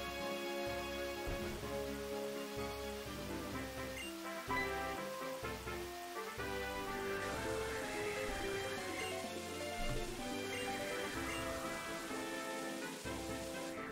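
Steady rainfall in the video game Pokemon Black, a continuous soft patter of rain heard under layered game music, with no talking.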